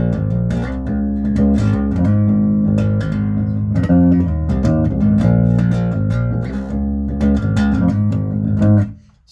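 Bass guitar played on its neck pickup alone, a deep, round tone with a close, steady stream of plucked notes and a dense low end throughout, fading at the end.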